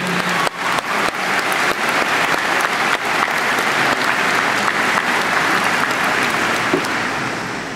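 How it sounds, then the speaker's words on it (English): Sustained round of applause from a graduation audience honoring retiring school staff, a dense, loud wash of many clapping hands that holds steady for several seconds and tapers slightly at the end. "Please join me in a round of applause for these individuals."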